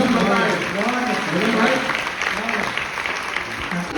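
An audience at a Hindi comic poetry gathering claps steadily throughout, with voices and cheering mixed into the broad wash of applause.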